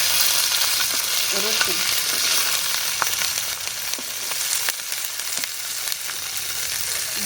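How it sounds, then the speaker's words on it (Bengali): Onions and green chillies sizzle in mustard oil in a kadai, a loud, continuous frying hiss close up with occasional clicks and scrapes of stirring. "কড়াইতে কিন্তু আমি সর্ষের তেল দিয়ে দিয়েছি এবারে দিয়ে দিব পেঁয়াজ কাঁচামরিচ"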